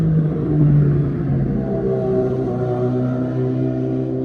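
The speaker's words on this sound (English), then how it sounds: "somebody just went past on the motorbike" Engine rumble swelling then fading as a motorbike passes nearby, fairly loud and steady with no voices.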